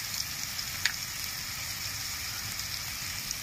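Ground coriander, cumin and dried chilli powder sizzle in hot oil in a pan for jackfruit biryani, a steady close crackling hiss with a small clink near the start and no talk.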